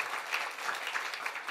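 A church congregation claps together during a Sunday morning worship service, a steady soft roomful of applause with no voices over it.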